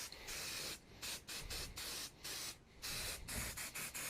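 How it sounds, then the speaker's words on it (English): Spray paint from an aerosol can blasting black onto a tabletop miniature model, several sharp hissing bursts of varying length separated by brief pauses, close and steady, with no talking. "Then I'll spray from underneath for the black."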